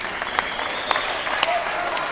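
A tennis crowd at the US Open during a women's quarterfinal claps steadily in a sustained wash of applause, with a few sharper individual claps standing out.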